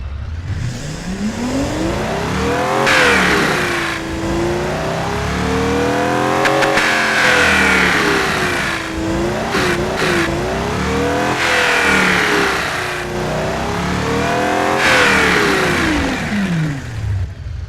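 A V12 engine in the Automation car-building game revs in repeated rising and falling sweeps, loud and continuous, with smooth idle stretches between the pulls and no voices.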